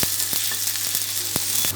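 Onion with ginger garlic paste frying in hot oil for a dal, a steady close sizzle with a few sharp stirring clicks, no talking.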